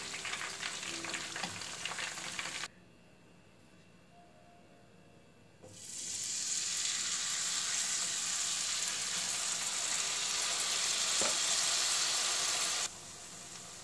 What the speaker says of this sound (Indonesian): digoreng sampai selesai